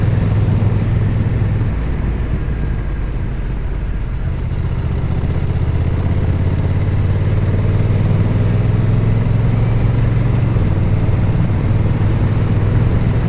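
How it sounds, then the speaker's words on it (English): A Honda NT1100 DCT motorcycle engine is heard from the rider's position as it drops a gear on a bend: a loud, steady low engine drone with a clear shift in pitch partway through, continuous wind and road noise, and no talking. "We'll drop a cog in the gearbox as we go round this bend nice and gently"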